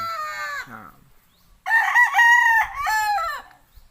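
A gamecock, a Kanawayon over Paul Spark Gray cross, crows loudly and close, with one short call followed by a fuller, drawn-out cock-a-doodle-doo.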